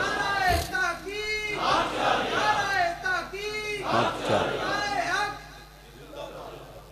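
Crowd at an Urdu religious gathering honoring Abu Bakr Siddiq raises loud unison chants, several voices rising and falling in repeated call-like bursts over a steady low hum, close and full.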